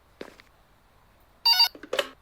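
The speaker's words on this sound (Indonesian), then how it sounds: "Ada telepon lagi cuy." A telephone at a hospital reception desk in the horror game Pikabuu Suster Jaga Malam gives short electronic beeps and warbling ring bursts against near silence, with a faint blip first and louder tones toward the end.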